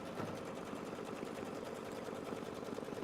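An embroidery-style sewing machine stitches a crosshatch quilting design, running as a steady, close, rapid mechanical whir with fine rhythmic ticking throughout and no talk.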